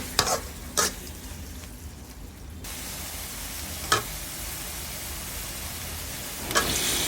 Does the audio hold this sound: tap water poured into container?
no